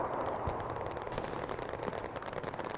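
Gunfire in the video game Hell Let Loose, including sniper rifle shots: sharp reports crack over a dense, continuous battlefield din of distant shooting and rumble, with no talk.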